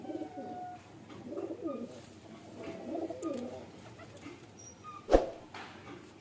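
Pigeons coo in low, soft murmuring phrases, with a sharp click near the end.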